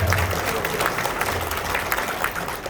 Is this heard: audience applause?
yes